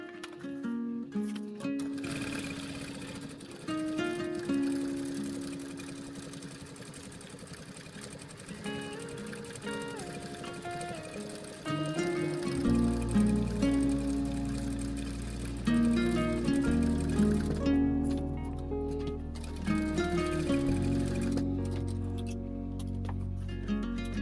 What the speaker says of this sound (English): I'm going to whiz round and baste these together